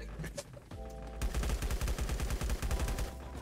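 Gunfire from Lifeafter rattles in a rapid automatic burst, a fast, even string of close shots after a few scattered sounds and a brief tone at the start.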